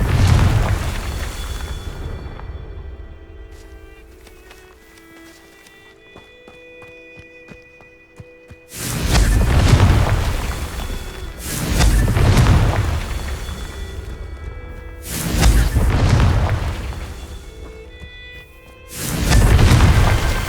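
Confringo blasting spells exploding in the Hogwarts Legacy video game, several loud booming blasts in quick succession after a quieter stretch of game ambience and footsteps.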